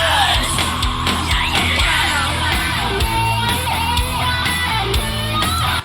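Screaming in a cover, a loud sustained harsh vocal over dense drums and distorted guitars filling the whole mix.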